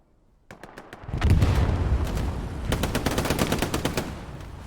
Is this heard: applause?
no